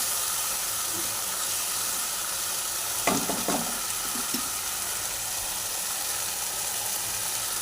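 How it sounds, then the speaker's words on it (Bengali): Mustard and poppy seed paste sizzles in a frying pan after melted tomatoes while it is stirred, making a steady hiss with a few scraping strokes in the middle. "এবার আমি সর্ষে পোস্তর পেস্টটা দিয়ে দিলাম, দিয়ে ভালো করে নাড়িয়ে চাড়িয়ে নিচ্ছি"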